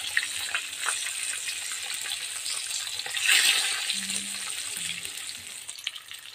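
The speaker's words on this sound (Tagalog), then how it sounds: "Hirap naman magprito nito, tumatalon-talon." Fish and chicken fry in hot oil, giving a steady close crackling sizzle with sharp spattering pops that swell briefly midway, and no voices.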